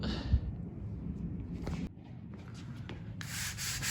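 Scrubbing oil spills on a garage floor with dish soap: steady, gritty rubbing strokes close by that run continuously with brief pauses and shifts in pressure.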